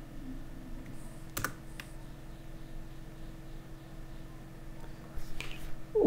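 Sparse computer keyboard key presses, including Alt+Enter, land as a few sharp, close clicks over a quiet background hum, with faint talking.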